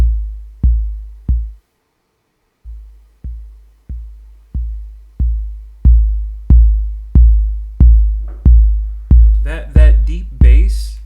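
Deep analog modular synthesizer bass plays a steady run of repeated plucked notes, each decaying quickly, with a brief gap early on; brighter, buzzier overtones open up in the later notes, loud and alone without talk.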